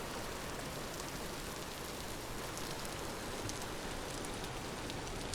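Steady rain falls in the video game Vintage Story, a soft continuous hiss with faint patters of drops, unchanging throughout and quiet with no voices.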